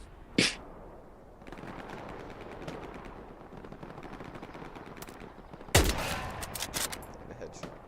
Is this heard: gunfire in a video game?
yes